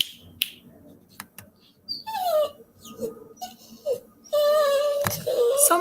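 A curious, hyper puppy whines and whimpers nearby, with rising squeaky yelps and a drawn-out whine toward the end, plus a few sharp clicks indoors.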